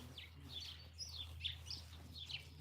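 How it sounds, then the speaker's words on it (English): Brown sparrows chirp faintly outdoors, a handful of short, high tweets scattered irregularly over a steady low background hum. "What's up, brown sparrows?"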